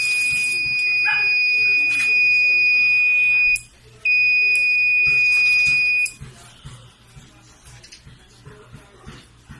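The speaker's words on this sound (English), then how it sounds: "If a leak is detected, the hose will be locked and will cause an alarm to notify the owner." A gas leak detector alarm being tested with water instead of gas, sounding loud piercing high electronic tones in two long bursts with a short break between, then cutting off into quieter background noise with faint voices.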